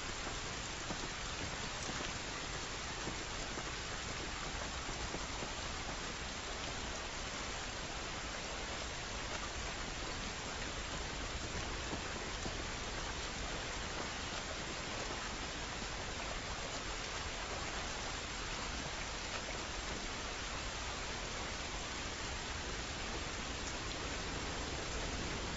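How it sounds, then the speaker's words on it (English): Rain falls in The Last of Us Remastered as a dense, steady hiss of drops on surfaces. It holds at an even level throughout with no talk. "This rain ain't gonna do us any good."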